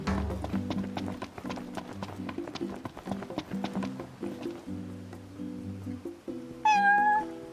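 A cat meows once near the end in Final Fantasy XV, clear and high, after a stretch of rhythmic clip-clopping hooves and game sounds.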